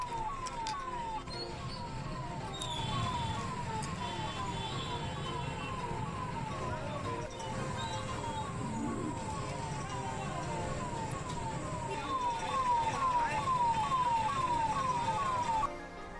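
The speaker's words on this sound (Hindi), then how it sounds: "जाम में मरीजों को ले जाते हुए एम्बुलेंस भी फंस गई।" An ambulance siren wails steadily with a rapid repeating yelp, stuck in a heavy traffic jam in a town street, with continuous traffic rumble and horns around it and no talk.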